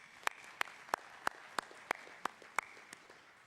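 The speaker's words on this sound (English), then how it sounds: "join me in a round of applause" A single person clapping slowly at a conference session, about eight crisp, evenly spaced claps, fairly faint and distant in a quiet room with no crowd applause joining in.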